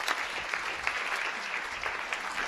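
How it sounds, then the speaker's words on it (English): A science café audience claps after a talk, a soft, fairly distant patter of many hands that stays steady with a few louder individual claps. "Let's give them a round of applause."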